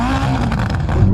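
A 3,000hp SUV fitted with a non-stock exhaust roars at close range, its engine held at a loud, steady rev throughout the short burst.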